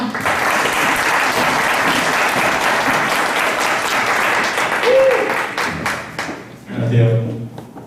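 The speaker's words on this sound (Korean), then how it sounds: "그럼 박수로 유신 교수님 모셔보겠습니다" Indoor forum audience applauding to welcome a KAIST professor to the stage, a dense, loud sustained clapping that tapers off toward the end as a voice briefly speaks.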